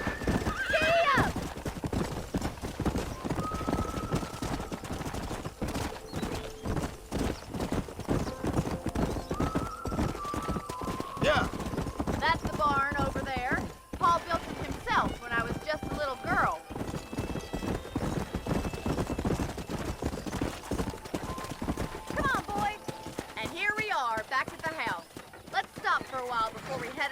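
A horse gallops in the Western video game Red Dead Redemption, rapid rhythmic hoofbeats pounding continuously up close, with occasional whinnies and neighs, while people talk over it throughout.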